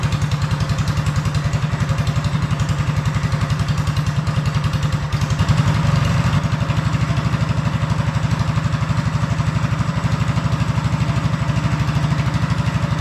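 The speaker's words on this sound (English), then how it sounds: "we're gonna let it sit and idle for a minute or two and kind of get its bearings since it's a brand new motor" A brand-new engine on a Coleman BT200X minibike idles close by, a loud, steady, rapid chugging that carries on without a break and swells briefly once near the middle.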